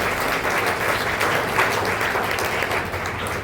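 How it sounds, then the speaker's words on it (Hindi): A church audience at a novena gives a priest a round of applause, a dense, steady clapping that holds evenly throughout. "तालियां बजाकर फादर जी को धन्यवाद करें"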